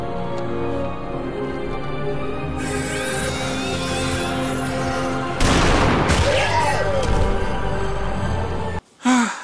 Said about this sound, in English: Reggie sees Mike again and gets his quadruple-barreled shotgun